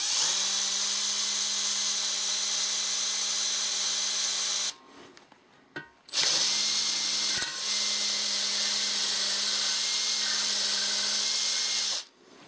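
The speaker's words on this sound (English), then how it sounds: "I'm going to drill a pilot hole and find out where it is." A power drill bores a pilot hole into freshly fitted Babbitt bearing metal. It makes a steady, loud whining drone with a clear tonal hum, stops briefly, restarts and runs steadily again, then cuts off.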